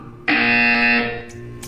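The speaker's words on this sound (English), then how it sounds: "You will hear a buzzer." A buzzer sounds once, a loud, steady electronic tone that holds for about a second, then drops away and leaves faint background noise.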